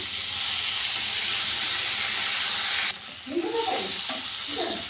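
Loud steady sizzle of a hot pan with roasted garlic runs for about three seconds, then sweet corn drops in, cutting the hiss briefly before the frying rises again with stirring clatter.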